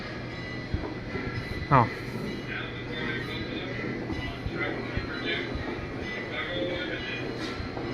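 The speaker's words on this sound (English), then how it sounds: "The number 5 train." Number 5 train passing as the Chicago Limited, a steady rumble of rail cars with a brief rising squeal midway, heard moderately close while a person exclaims briefly over it.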